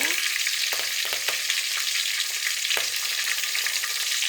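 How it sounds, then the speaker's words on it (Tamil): Curry leaves and a slit green chili frying in hot oil with fenugreek seeds for fish curry, a bright close crackling sizzle with a few sharp spatters near the start, no speech. "வெந்தயம் நல்லா பொரிஞ்சதும் கருவேப்பிலை போட்டுக்கோங்க. பச்சை மிளகாய் 1 கீரி போட்டுக்கோங்க."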